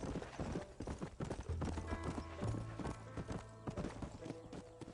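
In the video game Red Dead Redemption, a horse's hooves clatter at full gallop, a loud unbroken drumming rhythm over layered game background sound.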